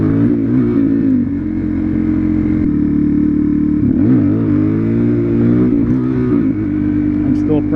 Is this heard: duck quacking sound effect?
no